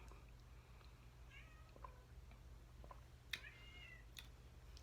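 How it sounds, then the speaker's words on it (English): A cat meows several times, faint and somewhat distant, with short rising cries over a low background hum. "Y'all hear my cat?"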